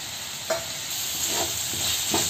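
Boiled peas go into hot spices in a pan for veg jeera fried rice, bringing a steady close sizzle and frying hiss with several soft scraping stirs of a spoon at intervals.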